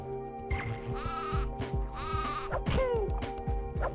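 Goats bleat in Spyro: Year of the Dragon, the 2000 PS1 platformer, giving several wavering, nasal bleats in quick succession over a steady hum of game music and effects.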